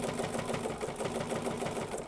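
A Bernina sewing machine stitches a jelly roll fabric rug, its needle pumping in a fast, even rhythmic chatter, loud and close with no talking.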